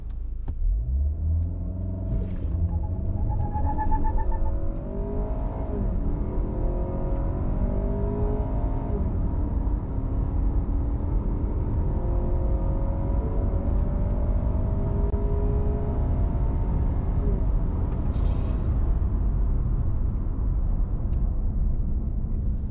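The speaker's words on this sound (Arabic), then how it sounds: "فيلا نشوف تسارع السياره من 0 ل 100" A 2020 Ford Taurus, made in China, accelerates hard from 0 to 100 km/h. The engine rumbles and rises steadily through several gear shifts, heard from inside the cabin for a long, continuous stretch with no talking.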